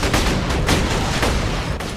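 Rapid, dense gunfire from a Gatling gun in the video game Borderlands 2, a loud continuous burst of overlapping shots with no pauses.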